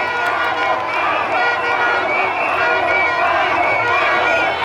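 A dense crowd lines the road at Bouaflé in Côte d'Ivoire to welcome President Alassane Ouattara on a state visit, a steady loud roar of voices and cheering that fills the whole clip.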